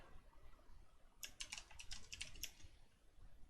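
Quick bursts of computer keyboard typing in the middle of an otherwise quiet room, a short run of close, crisp key clicks lasting about a second before falling silent again.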